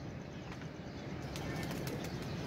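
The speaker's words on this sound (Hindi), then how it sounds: "4 कबूतर बैठे हैं और मेहर इन्हें बंद करने के लिए गया हुआ है।" Pigeons in a coop, a soft close flutter of wings and faint shuffling over a steady low background rumble, quiet overall with no speech.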